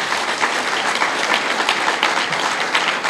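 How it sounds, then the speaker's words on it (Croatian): An audience at a book launch breaks into strong, continuous applause, many hands clapping together at close range for the whole stretch, with no voices standing out. "Molim vas jedan aplauz za njega."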